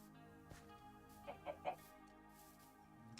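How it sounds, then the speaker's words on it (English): Chickens in Minecraft give a few soft clucks, three short calls in quick succession, faint over steady background game music. "Look at all those chickens."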